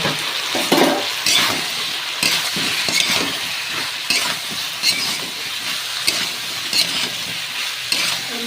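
Bottle gourd and slit green chillies sauté in a pan over potatoes and spices, giving a steady sizzle cut by repeated scraping and stirring strokes and the occasional clink of utensil on pan, close and with no talk.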